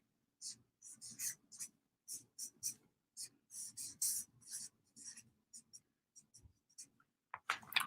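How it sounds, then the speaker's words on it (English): Pen sketching a quick page drawing on paper, soft close scratches and short strokes in irregular bursts with small gaps, faint and intimate. "I'm going to draw it for you quick."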